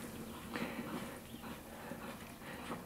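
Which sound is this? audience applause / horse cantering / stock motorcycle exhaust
horse cantering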